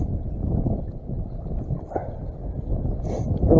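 Gusty wind buffets a small fishing boat on a windy day with 20 mph gusts, a loud, low, continuous rumble that swells and eases throughout.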